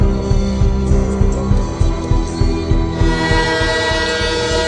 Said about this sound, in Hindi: लेकिन रेल धीमी नहीं हो रही थी